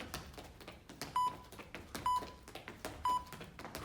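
A workout interval timer gives three evenly spaced short electronic beeps about a second apart during a cardio training session, heard over rhythmic movement noise and a busy room.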